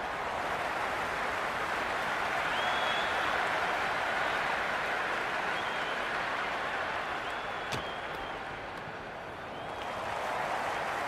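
A cricket crowd roars and applauds in a dense, continuous wash of noise that swells and dips slightly, with faint whistles and a sharp clap-like crack partway through.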